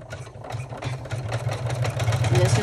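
An embroidery machine runs a tack-down stitch, a close, continuous mechanical whir with rapid regular needle clatter, low hum underneath, and faint talk in the background.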